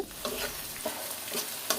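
Onion frying in a pan, a continuous close sizzle broken by a few sharp stirring clicks.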